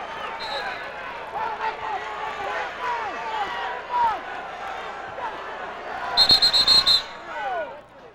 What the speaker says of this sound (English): Crowd is into this.